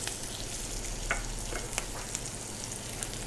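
King oyster mushrooms fry in a pan in a restaurant kitchen in Cambridge, UK, making a soft, steady sizzle with a few small pops and crackles and no talking.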